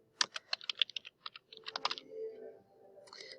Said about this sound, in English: Now from here we can go ahead and type in our search term